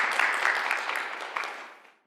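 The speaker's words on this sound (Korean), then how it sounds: "큰 박수로 청해드리도록 하겠습니다." Applause from the audience at a Korean television new year special, as a provincial governor is welcomed to speak: a bright clatter of clapping that gradually fades out over about two seconds.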